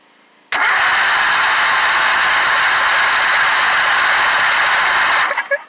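Engine of a Craftsman LT1000 lawn tractor with a fuel problem: a loud, steady mechanical whir that starts abruptly, runs evenly for about five seconds, then sputters and stops, close up.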